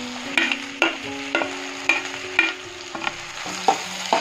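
Tomatoes frying in a pan for prawn curry, with a steady sizzle broken by regular scraping stirs of a spatula, close and fairly loud, no voices.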